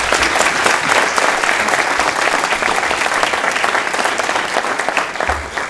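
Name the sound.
audience applause welcoming a sheriff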